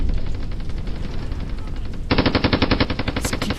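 Rapid machine gun bursts in a war movie battle scene, loud and close. A chattering rattle opens the clip, then a harder, denser stream of evenly spaced shots takes over for the second half.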